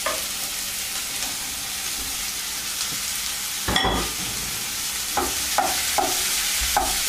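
Cubed leftover roast beef frying in a hot pan for a cottage pie, a loud continuous sizzle close up, with a sharp burst as the meat drops in and a few spoon scrapes later.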